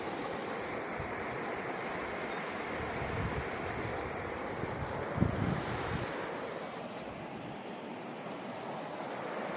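A stream by the village of Belkavak, its water rushing in a steady broadband wash, close and continuous, with some wind noise on the microphone and a brief knock midway.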